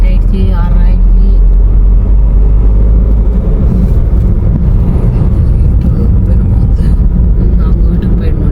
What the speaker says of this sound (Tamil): 20 கிலோமீட்டர் ஸ்பீடில் தாங்க வண்டி போகுது